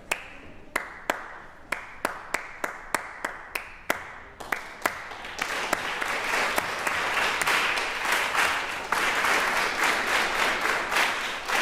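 Audience clapping the rhythm of a tarantella, starting as a lone pair of hands beating sharp, evenly spaced claps before many people join in, swelling into a loud rhythmic group clapping that continues to the end.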